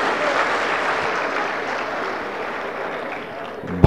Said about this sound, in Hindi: जोरदार तालियां माननीय मुख्यमंत्री जी के लिए।